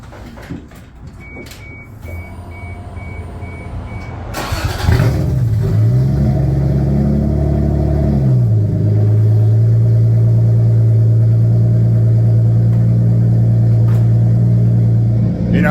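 Car engine with a loud aftermarket exhaust tip starting at close range after a quiet lead-in, catching with a sharp burst then settling into a steady, heavy, droning idle that stays loud throughout.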